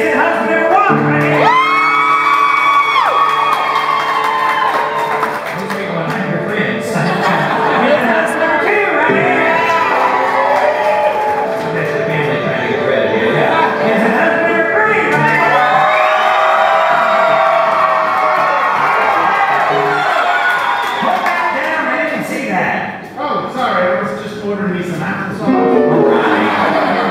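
An audience at a Laughing Stock Company comedy show cheers, whoops and shouts continuously, with applause mixed into the loud sustained crowd noise over nearly half a minute.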